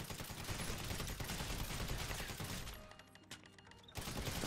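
Rapid gunfire in Grand Theft Auto V as a fan gets shot up during a heist: dense, loud bursts that briefly drop into a lull before the shooting resumes.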